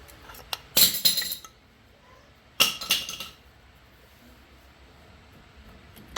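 A brake pad drops into place in a truck's front brake caliper: two sharp metallic clinks with brief rattles, the first just under a second in and the second near three seconds, close and clear over quiet background.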